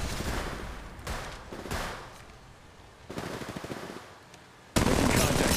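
Bursts of automatic gunfire in the Apex Legends Mobile shooter, rattling in several loud volleys separated by short lulls, with a dense, intense burst at the end.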